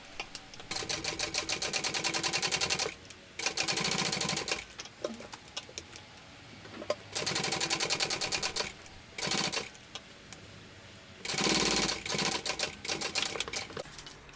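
A sewing machine topstitches a crossbody bag in bursts of fast, rhythmic needle chatter, several runs of a second or two separated by short quiet pauses, close up and alone.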